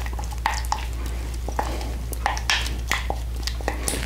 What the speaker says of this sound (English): I take my loose cheese and I fold that in just like that